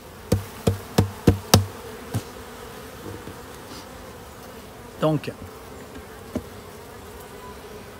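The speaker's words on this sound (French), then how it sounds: "Je vais faire tomber les abeilles." Honeybees knocked off wooden hive frame covers: a quick series of sharp knocks, then a few short bursts of buzzing from disturbed bees, with one brief spoken word.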